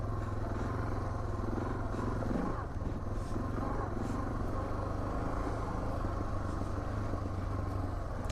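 A Suzuki DR650 air-cooled single-cylinder motorcycle rides across the desert, its engine droning steadily and close up throughout with wind rush, a brief surge near the middle, and faint speech-like noise mixed in.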